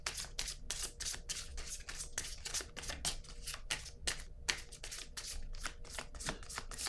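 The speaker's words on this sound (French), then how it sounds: "Oui, je vais prendre une carte rose." Oracle cards being shuffled and drawn from a deck, a steady run of quick, crisp riffling flicks close by, continuous for several seconds with no talking.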